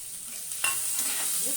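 Potato pieces fry in a pan with a little salt and turmeric, a close, steady sizzle with a sharp scrape of stirring midway, then continued crackling hiss.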